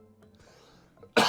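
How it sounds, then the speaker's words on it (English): A single sharp cough bursts out at the end, loud and close, after a stretch of quiet room sound. "I'm sorry for coughing."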